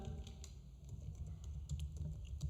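Steady typing on a computer keyboard while entering text in a Word document, a continuous run of soft close key taps over a low background hum.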